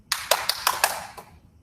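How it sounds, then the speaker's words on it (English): A quick run of five sharp hand claps at close range, evenly spaced and crisp, while a ball is up in the air, followed by a brief tap and then quiet, with no talking. "That was 5 claps."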